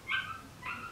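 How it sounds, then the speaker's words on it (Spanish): Two short dog yips or barks, each fairly faint and distant, carried across a mall in San Diego with low background murmur and no talk. "¿Por qué siempre escuchan perros cuando estoy grabando mis videos"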